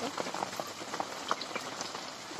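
Rain patters steadily and softly, with scattered drops tapping on a surface.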